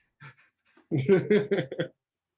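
A voice imitates an angry dog, giving a few short gruff barks in quick succession after a brief breathy sound, close and dry.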